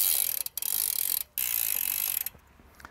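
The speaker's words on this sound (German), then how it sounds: "ich nehme noch mal die Kettenreinigungsbürste und lasse da einfach mal die Kette durchlaufen" A Stevens bicycle chain runs through a chain-cleaning brush, making a close, steady ratcheting whir that stops briefly twice before fading out.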